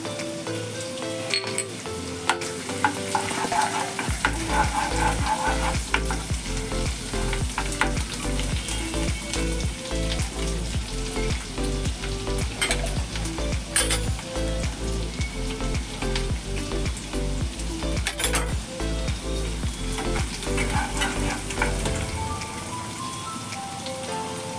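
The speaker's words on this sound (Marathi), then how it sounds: "मग लसूण टाकते, बारीक केलेला लसूण टाकलाय।" Minced garlic frying in a pan with a dense, loud, continuous sizzle and crackle, close up, broken by occasional stirring clatter and with no talking.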